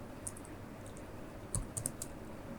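Typing on a computer keyboard at a desk, with scattered soft clicks and a few louder key strikes bunched near the end, fairly close and faint against a steady room hiss, with no talking.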